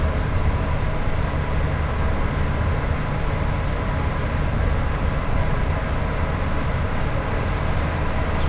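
Steady, continuous rumble and drone of a Class 87 electric locomotive hauling a parcels train over Shap on the West Coast Main Line in Train Sim World 6, unchanging and fairly loud throughout.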